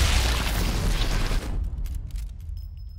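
A loud gunshot in the video game Sniper Elite 4 booms at the start as a dense blast that lingers for about a second and a half, then falls away into quieter game sounds.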